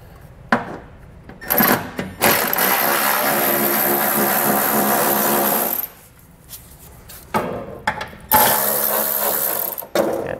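Ratchet wrench loosening four 10mm head fasteners on the exhaust heat shield of a 2009 Honda Accord, giving bursts of rapid metallic clicking separated by short pauses, loud and close with no talking.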